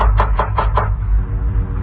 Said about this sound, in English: It was knocking at the door.